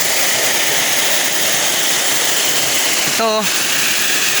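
Dapingan Falls, a small village waterfall flowing weakly, gives a loud steady rush of falling water close by. A short warbling chirp, likely a bird, cuts through it near the end.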